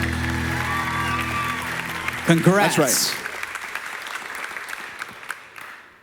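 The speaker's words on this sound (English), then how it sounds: "Give them one more round of applause." An audience at a pageant finals night applauds steadily, with the clapping running underneath a presenter's voice and then thinning away into scattered claps.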